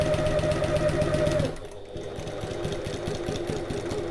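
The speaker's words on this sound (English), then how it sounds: "and we can keep sewing" A sewing machine stitches a fabric passport folio, running in a steady fast whir that pauses briefly, then resumes a little quieter with a rhythmic mechanical clatter. No one speaks.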